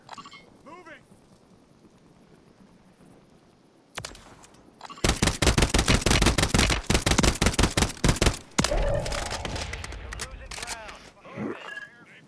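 Rapid automatic gunfire in a Call of Duty match, loud bursts of shots packed together mid-clip after quieter game sound, with a player's voice talking over parts of it.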